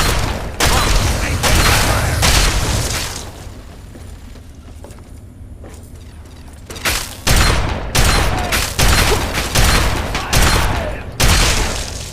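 Bursts of automated turret gunfire from Fallout 3, loud, dense volleys in the first few seconds, a quieter lull, then several more sharp rattling bursts toward the end.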